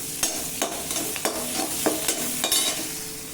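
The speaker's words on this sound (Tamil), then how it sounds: "கொஞ்சம் கூட வெங்காயத்தை போட்டு வதக்கிக்கலாம்" Onions sautéing in a pan for a radish and drumstick sambar, with a steady sizzle of frying under repeated sharp scrapes and stirring strokes from a spatula, close and fairly loud, no talking.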